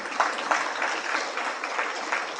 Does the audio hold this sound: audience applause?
yes